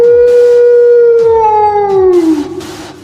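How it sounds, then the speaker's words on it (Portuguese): A loud, sustained wolf howl for a werewolf tale rises and holds a long wavering tone, then slides downward and fades near the end, heard close and alone. "E soltou um uivo muito alto."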